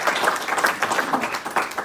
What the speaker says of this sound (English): go ahead, we'll clap